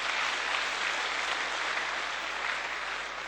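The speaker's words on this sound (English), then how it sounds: "Merci d'applaudir Clytemnestra et Marina." An audience at a Euroscola youth session in a hall gives a dense, steady round of applause for two Greek guests, a sustained wash of clapping with no voices on top.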